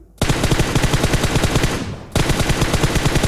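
Rapid automatic gunfire from the video game PUBG rattles loud and close in two sustained bursts, the first running nearly two seconds before a short gap and the second resuming just as fast.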